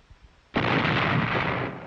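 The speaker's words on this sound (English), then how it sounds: "Casualties mounted as the enemy lashed back with artillery and mortars to prevent encirclement." Artillery and mortar fire on Okinawa in 1945, a sudden heavy blast that swells into a long, loud roaring rumble, following a few faint thumps.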